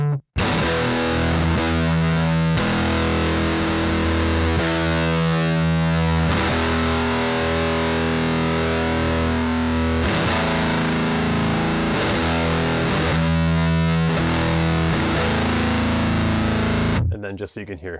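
Electric guitar played through a sludgy Ibanez distortion pedal, thick saturated chords with soft, blunted attacks ringing steadily for about seventeen seconds, loud and up close with no talking.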